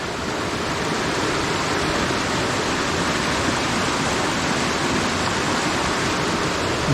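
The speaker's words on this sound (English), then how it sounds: "of a babbling brook" Water from a creek swollen after days of heavy rain rushes steadily over rocks at a campsite, a close, dense and continuous flowing roar with no voices over it.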